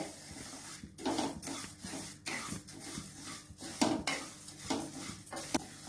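Ingredients for thiruvathirai kali are dry-roasted in a pan, a spatula scraping and stirring in repeated rhythmic strokes with light clinks against the metal, close and clear with no talking.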